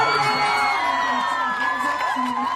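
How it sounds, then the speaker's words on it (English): A large crowd cheers and whoops steadily in Tel Aviv's Hostage Square as people gather to watch the handover of the last American held by Hamas, with shouts and yells rising throughout. "Cheers erupting in Tel Aviv's Hostage Square as crowds gather to watch the handover of the last American held by Hamas"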